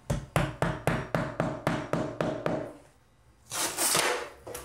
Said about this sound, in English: And then take your hammer to hammer these in.